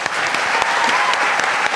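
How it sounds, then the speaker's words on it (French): A French television studio audience breaks into dense, continuous applause, many hands clapping loudly and evenly with a few sharper individual claps standing out. "je voudrais un tonnerre d'applaudissements"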